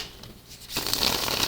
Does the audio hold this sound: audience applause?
no